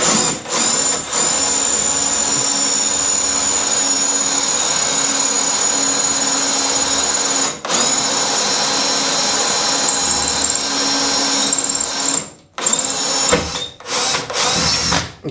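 A power drill with a DeWalt bit bores into wall tile, whining steadily and loudly for long stretches with a few short pauses near the end.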